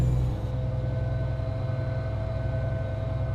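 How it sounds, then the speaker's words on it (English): A heavy truck's engine retarder engages on a highway in American Truck Simulator, giving a steady, loud droning rumble with broad hiss that holds without a break. "Ooh, this truck has a retarder."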